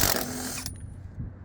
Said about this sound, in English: Let's see if it'll take off a lug nut.